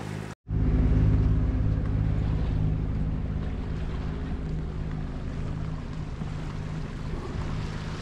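A cruising sailboat's engine drones steadily as it motors across a flat calm sea in Raja Ampat, a close, continuous low hum with water rushing past the hull after a brief silence at the start.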